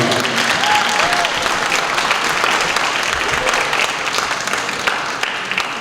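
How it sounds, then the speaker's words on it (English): Audience applause at a student award ceremony, a full, even round of clapping that holds steady throughout without voices on top. "One more round of applause, ladies"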